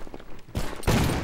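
Video game gunfire bursts out in a loud volley after a quieter lead-in, a dense, sustained barrage of shots filling the second half.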